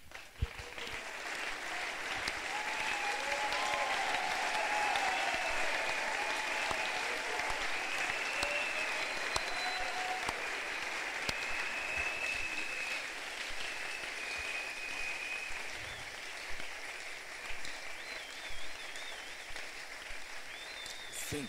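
Sustained applause from a church congregation at a New Year's Eve service, steady dense clapping filling the whole stretch at moderate distance with faint crowd murmur and no clear speech.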